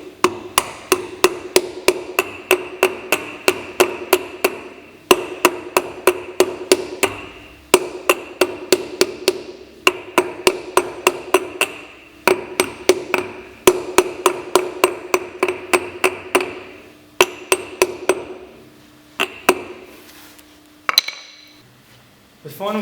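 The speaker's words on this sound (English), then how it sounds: "then using the hammer, tap along around the outside of the rim in a circular fashion" A hammer taps around the outside of a wheel rim on a Tow and Collect 1500 machine, ringing metallic strikes in quick regular bursts with short pauses between them, loud and close.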